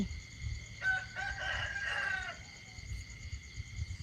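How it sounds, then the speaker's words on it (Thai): A rooster crows at dawn, one long, drawn-out call from a middle distance over a soft, steady early-morning hum. "ฟังเสียงไก่ขัน"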